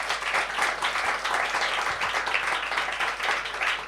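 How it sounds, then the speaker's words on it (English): Dense, sustained applause from a crowd, steady and loud throughout without pause. "give our panellists, Noel, Emma and Ryan, a huge round of applause."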